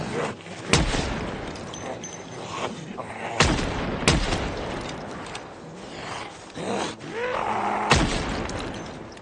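Gunshots ring out in the zombie survival game Project Zomboid, several loud sharp blasts spaced a few seconds apart over a noisy background.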